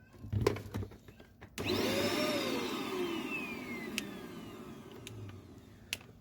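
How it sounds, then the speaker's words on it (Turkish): A Fakir upright vacuum cleaner, brought in with a not-working fault, whirs up from about 1.5 seconds into a steady motor whine that slowly drops in pitch as it winds down, with a few clicks and handling knocks around it. "Fakir'e ait dik süpürge."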